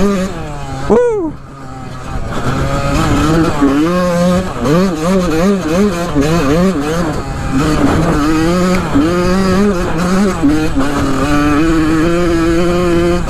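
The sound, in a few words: Yamaha YZ125 dirt bike engine while riding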